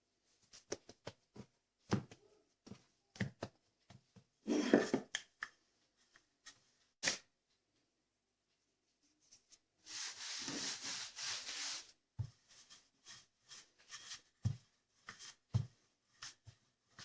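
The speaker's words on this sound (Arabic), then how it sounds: "رح اخذ شوية طحين وافرد العجينة" Dough dusted with flour being rolled out for Palestinian qarashel, heard as soft rubbing and sanding strokes on a surface, with scattered taps and a longer steady rolling stretch, close and quiet.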